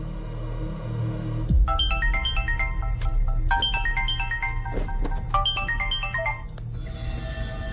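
A telephone ringtone plays a repeating electronic melody of rising stepped tones in three phrases over a steady low hum, loud and close, then stops.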